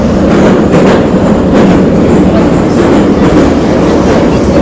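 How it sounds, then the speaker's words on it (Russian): A metro train rumbles steadily through a tunnel, loud and continuous, with faint rhythmic clacking of wheels over the track. "мы сейчас пришли в метро"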